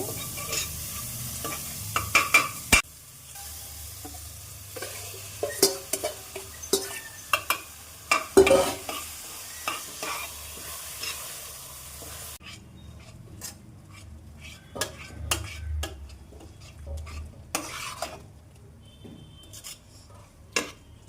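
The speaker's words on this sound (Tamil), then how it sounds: "நம்ம சும்மா கரண்டியில் மசிச்சுப்போம் போதும்" A ladle mashes cooked eggplant in a pot for a Tamil eggplant kadayal, giving repeated scraping and clanking strokes against the metal, loud and close, with a change in room tone partway through and no talk.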